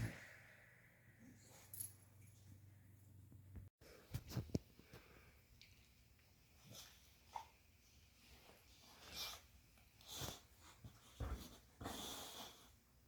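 A dog breathes and snorts close by, a string of soft sniffs, wheezy huffs and snorts coming in irregular bursts over a quiet background, with no talking.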